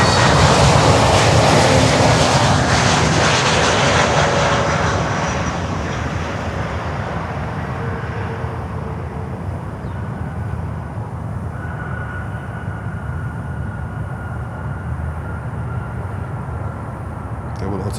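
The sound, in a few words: American Airlines Airbus A321neo jet on runway 9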